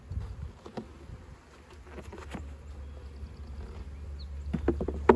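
Honeybees buzz faintly and intermittently close by as a hatching brood frame is moved between hives in spring, with scattered light taps and clicks over a low background hum.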